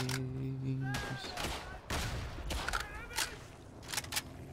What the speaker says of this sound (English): Ah, so satisfying hearing that gun, that sound.